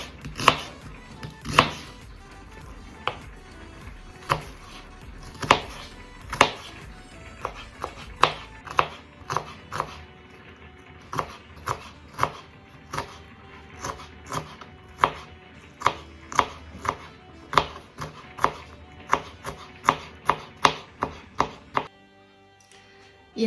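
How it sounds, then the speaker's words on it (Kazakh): An onion is chopped finely into small cubes with a knife on a cutting board, dozens of crisp, close knocks in an uneven but steady rhythm, with no talk. "Пиязды майдалап тураймыз"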